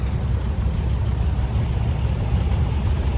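Small high-speed four-cylinder tractor engine running steadily at a threshing show, a continuous low rumble held at even loudness throughout with no talk.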